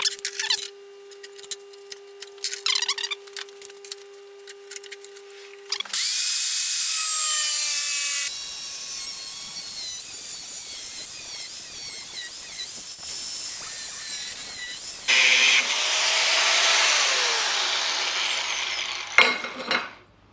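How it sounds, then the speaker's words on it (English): A small 4-inch angle grinder with a thin 1mm cut-off blade slices through steel bar stock, a loud sustained high-pitched whine and screech with shifting pitch, broken by brief pauses and restarts, with no talking. "I'm using a 1mm cut-off blade on my little 4-inch grinder"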